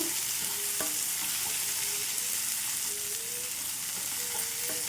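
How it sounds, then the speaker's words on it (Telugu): Tomatoes fry gently in a pan on low flame for a gongura chutney, a constant soft sizzle with faint scattered utensil clicks and scrapes throughout. "ఇవి ఇప్పుడైతే సిమ్లో ఉంచేసుకొని మొత్తం వేయించుకోవాలి."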